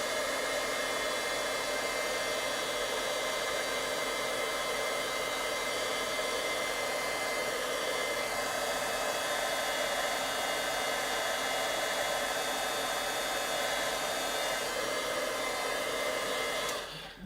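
A heat tool blows continuously to melt embossing powder, a steady loud fan-and-motor whir like a hair dryer that holds for many seconds and cuts off at the end, with no talking.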